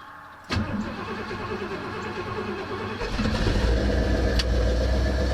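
A cold engine with an Aces Killshot EFI system fires up after sitting for weeks. A sudden start catches and settles into a steady idle, then the revs step up and it runs louder and rougher.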